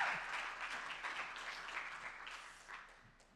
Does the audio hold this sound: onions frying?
no